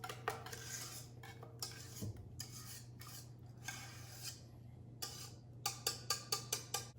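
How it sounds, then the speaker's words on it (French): Soft scraping and clinking of a plastic pastry scraper against a saucepan, scraping out leftover pastry cream, ending in a quick series of light rhythmic taps, over a low steady hum. "Et je vais gratter avec ma corne le restant de crème dans le fond de la casserole."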